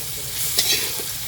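Garlic paste goes into a pan of already well-fried onions and is stirred, producing a strong, steady sizzle broken by a sharp scraping stir and a few softer utensil sounds.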